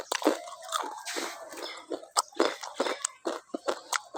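Close, wet chewing and crunching of raw leafy greens eaten with the stems, in irregular bites and squishy chomps with short pauses between them, and no talking.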